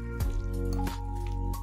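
Pani puri stuffing being mixed with chaat masala and salt, giving three short squishy bursts against a steady tonal background.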